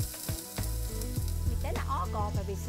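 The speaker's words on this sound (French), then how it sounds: "Baissez la température seulement à ce stade et poursuivre la cuisson des steaks 3 minutes de chaque côté." Beef steaks searing in a pan, a continuous bright sizzle under strong low, rhythmic background tones that partly mask the frying.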